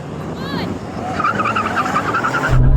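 Porsche 911 Turbo cars of several generations launch off the line in a drag race, engines roaring and a tire chirp rising over constant engine noise and crowd-like talk, growing louder at the end.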